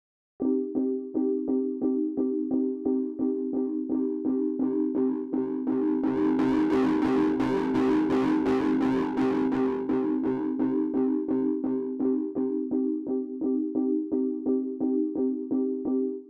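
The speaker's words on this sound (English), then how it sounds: "This little saturation flame knob can give you a hint of drive or a ton of distortion." Repeated S.K.Y. Keys synth key notes play in a steady rhythm, the saturation knob swelling the tone into heavy gritty distortion midway before easing back to a cleaner, lightly driven sound.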